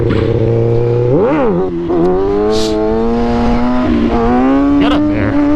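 Motorcycle engine revving through gear changes during a seat stander stunt ridden in second gear, a loud close buzzing drone that rises, dips and climbs again with pitch swings and brief wind noise.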